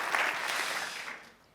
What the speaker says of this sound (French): Il ne faut pas que vos applaudissements faiblissent